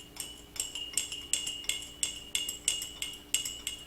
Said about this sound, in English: we're going to take 1 teaspoon of light brown sugar and put that in there and give that a good stir